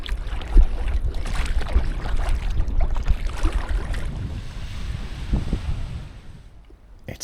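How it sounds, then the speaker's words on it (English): Small boat rowed over a shallow reef, with oars dipping and splashing water in an irregular rhythm against steady wind noise; the sound fades toward the end. "Row, row, row your boat gently over the reef."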